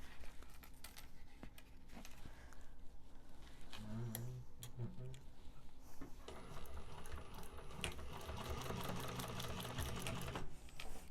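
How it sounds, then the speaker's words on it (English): A sewing machine runs steadily, stitching a second line of seam along a fabric wristlet, with a few clicks and small metallic clinks mixed into the continuous mechanical whirring. "So I am going to do a second line of stitching to put that in place there."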